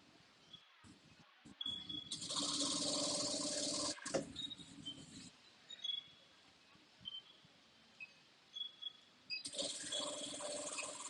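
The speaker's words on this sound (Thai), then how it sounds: "แต่ในสมัยนี้เทคโนโลยีเย็บผ้า เข้ามาช่วยย่นระยะเวลาในการตัดเย็บของท่านได้ไวขึ้นนะครับ" A sewing machine stitches cloth for monks' robes at a forest temple. Two bursts of steady whirring are separated by quieter stretches with scattered light clicks and taps.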